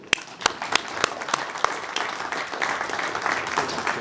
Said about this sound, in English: let's give a big round of applause for Scott